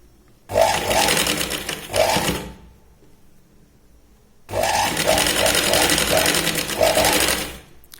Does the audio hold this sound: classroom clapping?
no